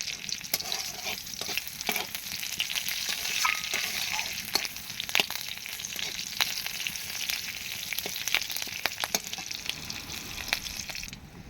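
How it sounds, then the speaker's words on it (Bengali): Cumin seeds and green chilli crackle in hot oil as a tempering, a close, continuous sizzle dotted with frequent sharp pops and spatters, steady throughout before stopping abruptly. "ফোড়নটা এখানে ভাজা হয়ে গেছে"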